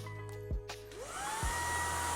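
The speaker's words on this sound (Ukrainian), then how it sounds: "Ось так пилосос працює." A Redroad V17 cordless vacuum cleaner runs in medium mode, two brief clicks followed by a rising whine as the motor spins up into a steady, loud hum.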